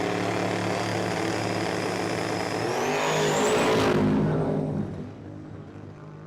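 A drag racing car at a dragway roars loudly down the track, its engine sputtering and breaking up with a rising whine. The sound swells near the end, then drops sharply to a fainter rumble.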